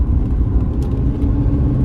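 A 1992 Buick Skylark GS with its 3300 V6 engine running close by, giving a steady, low growling rumble that holds even throughout with no voices.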